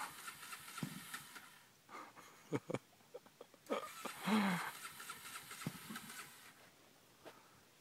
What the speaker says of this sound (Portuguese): Fazer a moto pegar, cara, sem dó.